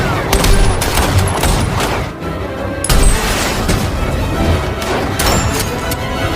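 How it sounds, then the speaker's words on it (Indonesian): Dense, rapid bursts of machine-gun fire fill the clip, loud and continuous like automatic weapons, with booms and crashing noise mixed throughout. "menyambutnya dengan tembakan dari senapan mesin"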